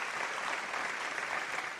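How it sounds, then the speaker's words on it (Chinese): A studio audience at a televised Huangmei opera show applauds in a soft, steady wash of clapping that stays even from start to finish, heard alone without talk. "我们要掌声感谢他。"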